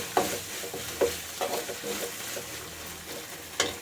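An onion masala fries in a pan, a soft sizzle broken by several distinct scrapes and clanks of a spoon stirring, fairly quiet and close.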